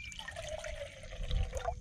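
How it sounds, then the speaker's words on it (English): Seawater poured from a bottle into a cup outdoors on an island, a steady close trickling splash that lasts throughout and swells slightly near the end. "We're going to pour it into the cup."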